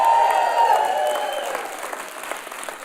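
Audience at a Success Day event in Dublin applauding and cheering, a dense wash of clapping that starts loud and slowly thins out, with a faint whistle or cry at the start.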